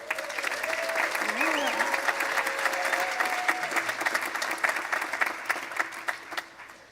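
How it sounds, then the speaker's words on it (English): Graduates of the inaugural Vermont State University Johnson class applaud at their 2024 commencement ceremony, a steady, dense wash of clapping across a large crowd with voices mixed in and some tonal sounds over it. "Give yourselves a round of applause."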